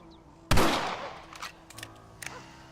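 A single rifle shot in the Red Dead Redemption video game, one sharp close blast with a decaying echo, followed by quieter faint clicks and handling sounds.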